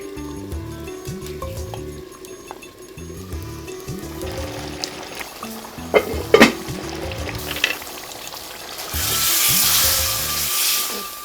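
Meat frying and being stirred in a pan for a Bengali meat curry with whole garlic, a steady sizzle with rhythmic scraping strokes, a few louder clatters midway and a brighter hissing surge near the end.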